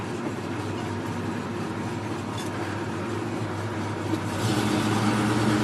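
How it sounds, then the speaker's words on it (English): Steady engine drone and road rumble inside a 1972 Chevrolet C10 Cheyenne Super pickup driving through the gears, with a continuous broad roar that gets louder toward the end. "Alright, we're going to take it for a spin here, get it through the gears."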